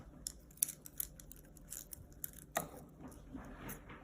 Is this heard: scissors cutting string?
yes